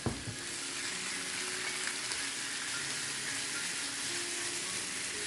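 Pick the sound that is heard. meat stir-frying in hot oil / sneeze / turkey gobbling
meat stir-frying in hot oil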